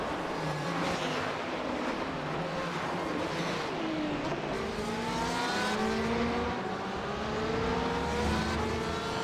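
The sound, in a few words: GT race car driving around Monza track in iRacing video game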